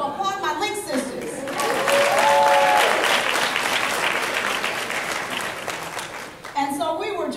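A conference audience applauds a group of panelists, steady clapping that swells for several seconds and then fades, with a speaking voice before and after.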